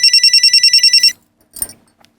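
A telephone rings with a rapid, trilling electronic burst about a second long, loud and close, followed by a soft clunk and near silence.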